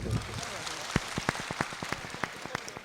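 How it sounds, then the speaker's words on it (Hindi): Scattered, sparse clapping from an audience at a mushaira poetry recital in Nuh, Mewat, individual claps popping irregularly at moderate distance and building slightly, with no talking. "एक मरतबा आप मेरे लिए तालियां बजा दें दोस्तों"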